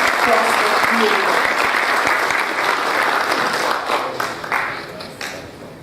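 An audience at an official Brazilian heraldry and humanities ceremony gives a loud, sustained round of applause for an honoree, a dense steady wash of clapping that thins and tapers off near the end, with voices mixed in.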